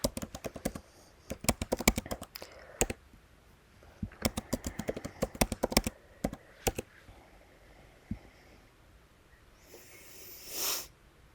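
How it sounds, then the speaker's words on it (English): Typing on a computer keyboard in quick clustered bursts of crisp clicks with short pauses between, ending in a softer brushing noise, close and alone. "type in your credentials."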